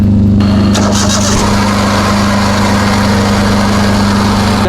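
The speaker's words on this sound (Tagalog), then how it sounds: "Pakinggan natin tunog ng makina." A loud engine runs steadily with a deep droning hum, a short revving burst near the start before settling into an even idle.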